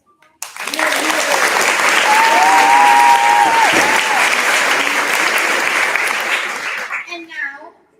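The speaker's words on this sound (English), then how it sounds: "one more round of applause for those teachers who couldn't join us" Sustained applause from an audience at a fifth-grade school promotion ceremony, loud and full for about seven seconds before fading, with a voice briefly heard at the end.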